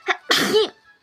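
A single sharp sneeze, close and fairly loud, with a short intake breath before the burst, followed by near silence.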